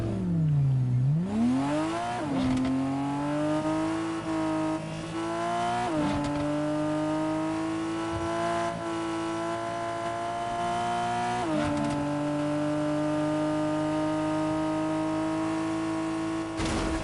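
Car engines in Fortnite Creative rev up and settle into a steady drone, with pitch climbing in several stepped surges, close and fairly loud throughout with no talk.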